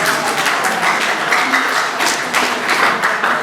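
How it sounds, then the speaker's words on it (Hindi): An audience in a seminar hall claps steadily for a few seconds, a dense, even wash of many hands applauding together. "आपने अपने लिए तालियां बजानी शुरू कर दी"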